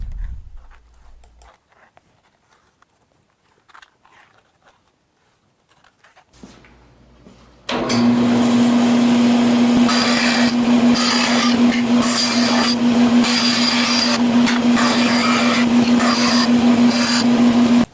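Power saw cutting thin plywood table pieces for a drill press table, starting abruptly after quiet handling noises and running as a loud, steady whine with a sustained tone and rough rasping texture until the end.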